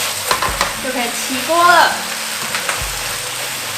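Vegan ginger-style pork slices made from meat substitute are stir-fried in a wok over high heat with a little sesame oil. Continuous sizzling comes with scraping and stirring clatter, and a voice speaks briefly over it.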